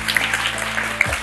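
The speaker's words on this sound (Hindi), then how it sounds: "सबके लिए तालियां बजेंगी" A studio audience claps for all the contestants on a television quiz show, a dense, steady wash of applause lasting the whole moment at moderate volume over a low hum.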